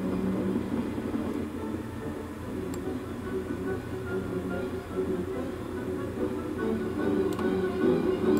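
Mail train rumbling along in the OpenLoco railway simulation game, a steady low mechanical drone with faint clatter throughout, moderately loud, with no talking.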